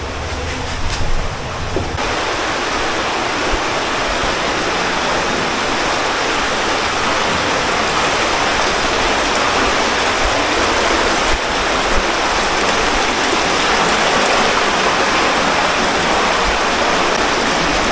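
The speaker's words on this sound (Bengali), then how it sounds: "জাস্ট এই জলগুলো কিন্তু এখনও ওই জায়গা থেকে কিন্তু আস্তে আস্তে ঘুরে কিন্তু আসছে" Water rushing steadily in a stream near a waterfall, a loud continuous broadband roar with a brief clatter in the first two seconds, then an unbroken wash of flowing water throughout.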